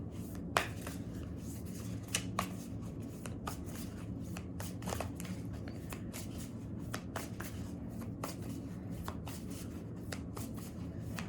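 Oracle animal spirit cards are shuffled by hand, making a close, continuous riffle with crisp snapping flicks at irregular intervals over a low room hum.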